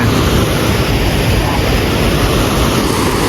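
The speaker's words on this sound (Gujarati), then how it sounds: "જુઓ પાણી જુઓ કેટલું જાય છે" Flowing water and waves near an island make a steady, loud broadband rush with wind-like noise throughout, and no voices are heard.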